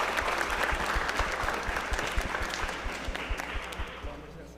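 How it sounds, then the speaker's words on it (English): A crowd applauds steadily at a corporate event, many hands clapping at once in a dense, sustained roar of applause with a few louder claps standing out. "let's give it a round of applause"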